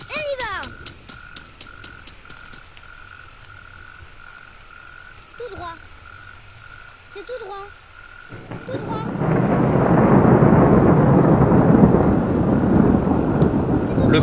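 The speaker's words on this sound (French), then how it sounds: "Le pays de Thor n'est pas loin, comme vous entendez l'orage." A thunderstorm in the audio video game A Blind Legend: frogs croak and a tone rings at first, then a roll of thunder and hard rain swell up and hold, loud and close.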